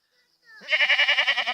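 A single loud, wavering bleat from a goat wanting to be milked, close by in a village, rising in quickly and pulsing steadily until it ends.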